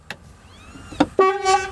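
The normal horn on a Mercedes-Benz Arocs mining truck, heard close up: a couple of short clicks, then a loud, steady honk that starts near the end.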